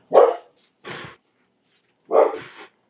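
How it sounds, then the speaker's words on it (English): A dog barks three times, loud and close: two quick barks, a pause, then a final bark trailing into a short yelp, with silence between. "Damn dog, man."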